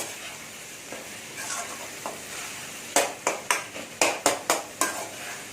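Soft sizzling from a pan of frying goat blood, then a run of quick metallic scrapes and taps as a utensil stirs it against the pan, close and rhythmic.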